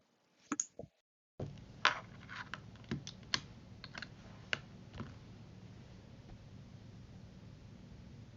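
Rapid typing on a Bluetooth keyboard with a few sharp, separate key clicks, then a steady patter of keystrokes over a soft hiss of background noise, close and quiet.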